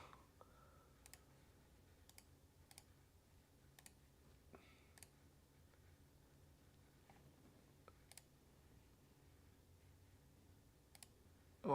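Computer keyboard typing, faint and sparse: scattered single key clicks spaced a second or so apart in a quiet room, ending in a louder knock.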